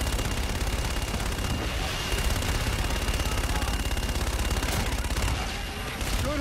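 Sustained aircraft gun-run strafing fire in the Infinite Warfare video game: a dense, unbroken roar of rapid automatic shots and impacts, loud and close, continuing without letup and easing slightly near the end.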